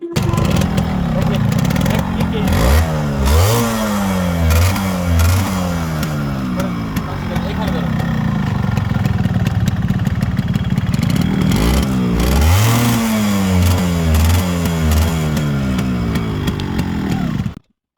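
A black Yamaha RX100 motorcycle in fresh condition is started with a single kick, then its two-stroke engine idles raggedly and is revved hard in repeated rising bursts, loud and close, with someone talking intermittently over it.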